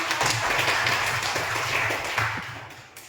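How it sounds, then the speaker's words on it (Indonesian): Classroom students clapping their hands, close rhythmic claps repeating steadily for a few seconds before tapering off. "Ya, berikan tepuk tangan."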